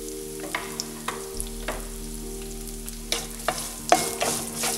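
Half an onion frying in a pan for semiya uppumavu, a steady close sizzle with occasional sharper pops and stirring scrapes.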